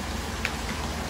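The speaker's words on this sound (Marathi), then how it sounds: "पण पाऊस सुरू झाला आहे" Rain falling steadily during a monsoon road trip at Malshej Ghat, a soft continuous hiss of drops close by with no one speaking.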